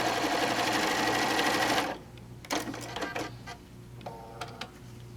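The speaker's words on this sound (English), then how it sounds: "we're just going to again sew down the other side" A sewing machine stitches quilt pieces together in a steady, fast, loud whirring run of about two seconds, then stops, leaving soft clicks and fabric handling.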